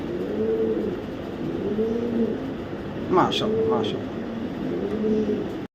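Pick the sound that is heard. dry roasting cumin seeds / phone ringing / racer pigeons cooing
racer pigeons cooing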